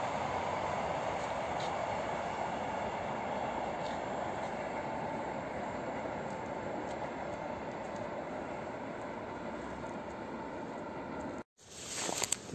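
An EN57 electric train running from Warsaw to Radom passes at Warszawa Reduta Ordona station. It sounds as a continuous broadband rumble that holds steady for about eleven seconds, then cuts out abruptly, with a few faint squeaks at the end.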